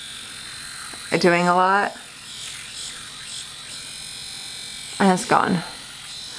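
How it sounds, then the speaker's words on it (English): A small electric face shaver gives two short buzzing bursts, one lasting under a second and a briefer one later, with a person talking quietly between them. "I've been super tempted to shave my entire face with this."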